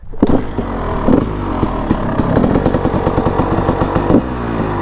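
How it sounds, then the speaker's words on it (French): A Husqvarna 300 TE two-stroke supermoto engine revs hard up close, its exhaust firing in fast, crackling pulses that rise and fall with the throttle. "j'adore le pot d'échappement qui repart comme ça"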